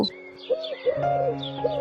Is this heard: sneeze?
no